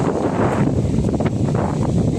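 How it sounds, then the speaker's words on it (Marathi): Strong wind buffets across open farm fields, a loud, close, continuous roaring rush with gusty swells and low rumbling bursts against the microphone. "वारा पण भरपूर चालू आहे."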